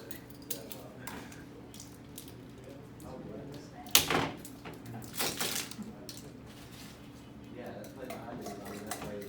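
Taking the top off a jar of coconut oil while making CBD lotion in a kitchen: a sharp click and pop followed by a few scraping, clattering handling sounds, close by, under quiet talk.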